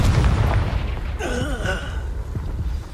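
A Confringo fire spell exploding in a Hogwarts Legacy duel, a loud low boom followed by a whooshing magical tone that sweeps and fades over a rumbling background.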